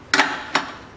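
Two sharp metallic clicks from a wrench loosening an 18 mm nut on the rear shock absorber of a 2012 Nissan Qashqai 2.0, close and distinct, with a short gap between them.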